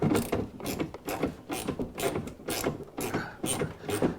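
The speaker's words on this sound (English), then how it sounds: "Loosen both of those 10s." A ratchet wrench loosening 10mm bolts on the door of a 2010 Impala, close and clear: about nine quick bursts of rapid clicking in an even back-and-forth rhythm, with no talking.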